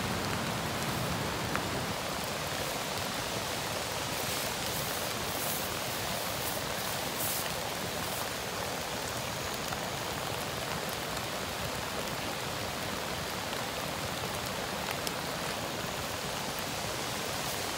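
Steady heavy rain pours down without a break, a dense even hiss close around the listener at night on a fishing trip, with no voices and no other sounds rising above it.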